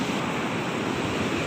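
Surf breaking steadily on the beach beside the old Japanese wartime fort at Tetejeu, Nias, a continuous broadband wash with no voices, fairly close and even in level.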